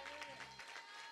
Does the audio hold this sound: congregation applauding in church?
yes